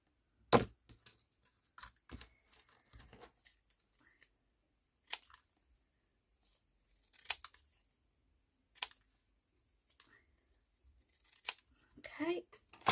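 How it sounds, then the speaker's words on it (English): Deckle edge scissors snip through paper in scattered, crisp cuts separated by quiet pauses, close and fairly faint. "I'll just cut around these. In fact, I think I'll use my deckle edge scissors."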